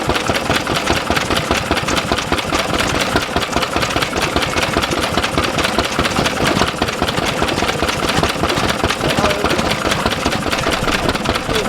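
A classic vehicle engine at a heritage transport show runs at a steady idle, its close, even mechanical pulses and knocking going on without a break and with no voices over it.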